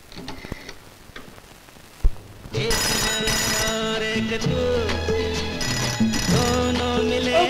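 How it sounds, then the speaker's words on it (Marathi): An old landline telephone bell ringing in a home, loud and continuous with repeated rings after a brief quiet opening and a knock. "एक कुणीतरी घ्या ना तो फोन"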